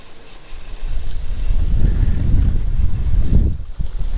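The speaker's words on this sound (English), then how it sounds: "Holy, is it windy?" Strong 20 mph wind on a fall fishing trip roars and buffets the microphone in heavy low gusts, building after a quieter start and dipping briefly near the end.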